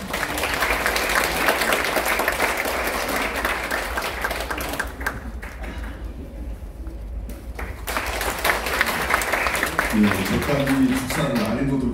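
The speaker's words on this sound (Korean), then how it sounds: "여러분 뜨거운 박수로 모시겠습니다" Warm applause from an audience at a ceremonial event at the National Assembly in Korea, welcoming a guest to the stage: dense, sustained clapping throughout, with a speaking voice coming in near the end.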